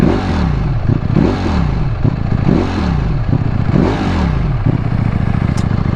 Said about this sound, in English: You'll be very surprised when we get going how much of a nice exhaust note this makes.